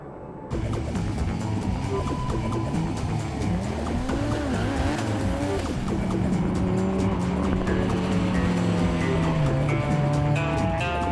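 Dodge Viper drag car accelerating down a runway toward 172.9 mph, a sustained loud engine roar with rising and wavering pitch that holds steady to the end after a brief quiet start.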